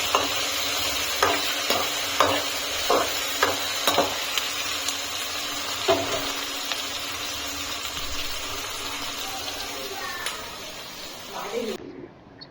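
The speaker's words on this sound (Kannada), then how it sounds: "ಇವತ್ತು ಬೆಳಗಿನ ನಾಷ್ಟಕ್ಕ ಸೂಸ್ಲ ಒಗ್ಗರಣೆ ಅಂತೀವಿ, ಅದು ಮಾಡ್ತಾ ಇದ್ದಾರೆ." A susla tempering of puffed rice fries with a steady sizzle in a pan while repeated scraping strokes stir it. The stirring falls in a loose rhythm, and speech is faintly present in places.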